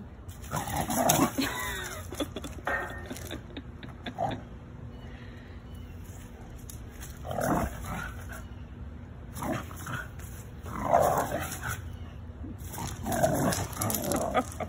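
A puppy plays in a backyard, giving repeated short growls, yips and scuffles in scattered bursts at close range, with quiet pauses between.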